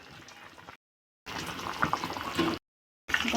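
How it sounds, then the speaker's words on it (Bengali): Bengali fish curry broth bubbling at a boil in a pot, a steady close gurgling simmer heard in short bursts separated by abrupt silent gaps. "এই তো আমাদের তরকারির ঝোলটা অলমোস্ট ফুটে এসেছে।"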